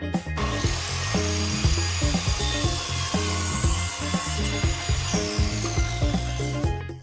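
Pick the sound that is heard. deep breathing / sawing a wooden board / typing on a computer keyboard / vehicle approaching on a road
sawing a wooden board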